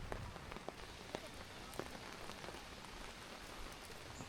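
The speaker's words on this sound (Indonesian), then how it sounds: "Bangun-bangun kami langsung disambut hujan deras dan angin kencang ya." Heavy rain drums steadily on a camping tent at the Ranca Upas campsite in Ciwidey, with dense continuous patter and occasional louder drops close by.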